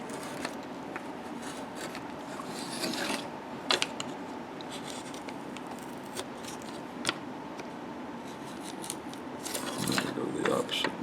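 A gouge carves wood for a Native American bust, giving soft, close scraping and slicing strokes in irregular bursts with a few sharper clicks, fairly quiet against a faint room background.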